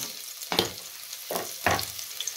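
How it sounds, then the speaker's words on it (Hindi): Garlic dropped into hot oil in a pan while cooking radish-leaf saag, giving three short bursts of crackling sizzle with quieter frying between them, close and fairly soft. "ऑयल हमारा गर्म हो चुका है। बिस्मिल्लाहिर्रहमानिर्रहीम। ये लहसुन हम इसमें ऐड कर देंगे।"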